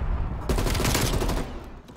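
Dense artillery barrage in Call of Duty Black Ops Cold War: a thick, continuous roar of overlapping blasts and crackling impacts, loud and sustained for over a second before easing off.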